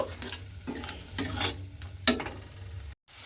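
Egg being stirred into spices in a pan, giving a series of close scraping, rasping strokes with a faint sizzle beneath and one sharp metallic clink near the end, with no talking.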